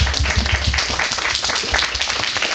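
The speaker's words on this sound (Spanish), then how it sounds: "Un aplauso." An audience at a comic convention stage event applauds with a thick, continuous wash of clapping that stays loud and steady from start to finish, without individual claps standing out.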